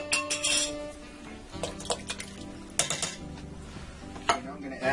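Two 14.5-ounce cans of diced tomatoes with juice tipped into a hamburger cabbage stew pot, metal cans clinking and scraping against the pot rim in close, irregular knocks with wet plops between.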